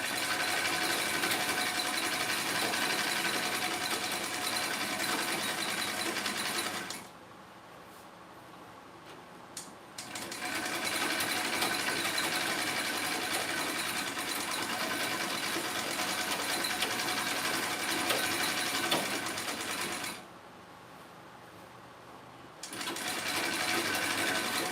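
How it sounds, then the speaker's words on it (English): A 3-thread overlocker stitching trouser fabric, a fast, dense mechanical whir running loud and close in two long bursts separated by brief pauses. "this is a 3-thread overlocker."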